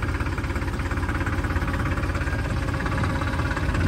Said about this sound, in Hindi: तो अपना जो ट्रैक्टर है वो चल रहा है अभी इंजन रेस पे ही